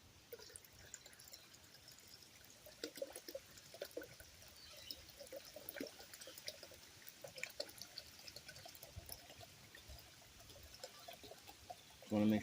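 Muriatic acid pours and trickles softly for a long stretch over SD cards, faint and steady with small splashes, ending in a brief louder clatter.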